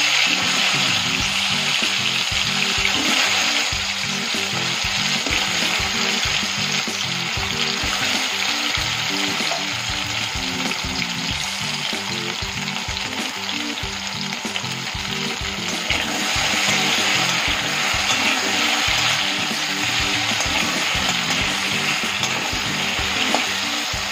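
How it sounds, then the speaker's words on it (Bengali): Taro pieces fry in hot oil, a loud, dense sizzle that continues unbroken, crackling steadily with faint scraping of stirring and no voices. "এবার এর মধ্যে তেলটা গরম হয়ে যাওয়ার পর কচুগুলোকে ভেজে নেব।"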